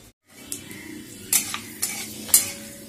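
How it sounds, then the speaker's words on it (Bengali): Panch phoron and a dried red chili tempering in hot oil, a close steady sizzle with several sharp pops and spatters and a brief stir partway through, no talking. "এখানে একটু তেল আর 5 ফোড়ন আর একটা শুকনো লঙ্কা ফোড়ন দিয়েছি"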